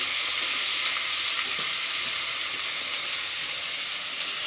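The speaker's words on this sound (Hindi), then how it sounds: "अब प्याज से फ्राई करो।" Onions sizzle in a hot pan for Rajasthani gatta sabzi, a steady, close, hissing fry that holds even and uninterrupted throughout.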